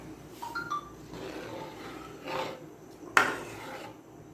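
A spoon scrapes and rubs around a pot of rice and lentils in a few slow strokes, with one sharp clink near the end, quiet and without talk.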